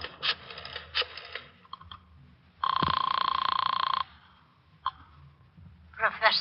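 An old-time radio drama telephone ring effect: one sustained bright electric bell ring lasting over a second, set between stretches of talk and studio clicks, moderately loud and close.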